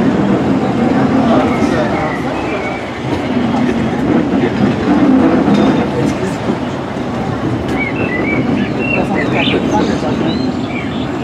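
A roller coaster mine train at Disneyland rolls along steadily with a continuous rumble and rattle, while people shout and chatter over the noise throughout.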